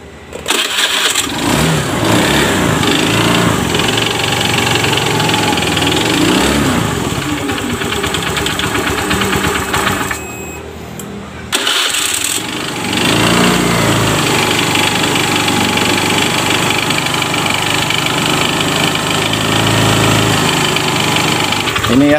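A Honda Beat FI scooter with a rough knocking fault is started and left running, its small engine loud and close with an uneven clattering idle; the noise briefly drops mid-way before resuming.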